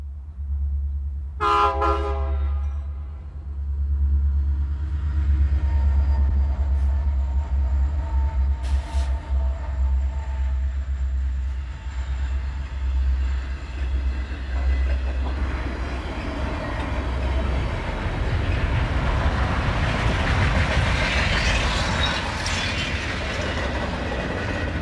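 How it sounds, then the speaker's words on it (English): A westbound American steam train passes with a steady, loud rumble of the engine and cars, a brief whistle toot near the start, and a hissing, clattering wash of sound rising toward the end. "And the westbound counterpart is train 199."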